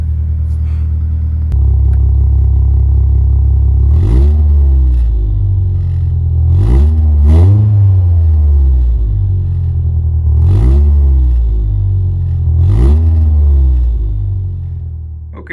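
A Volvo car engine cold starting after sitting for three weeks: a crank and catch, then a loud steady idle near the microphone with several sharp revving blips and clattering, no talk.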